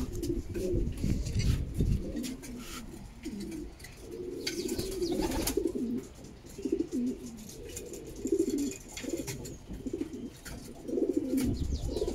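Racing pigeons cluster at their loft after a 290 km race, cooing repeatedly in low, throaty bursts, with faint chirps and rustling around them.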